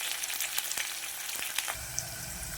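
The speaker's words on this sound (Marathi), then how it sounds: "फोडणीसाठी कांदा तडतडायला ठेवलेला आहे मस्तपैकी." Onion sizzles in hot oil as a tempering for village-style chicken curry, a close, steady frying hiss with scattered crackling pops.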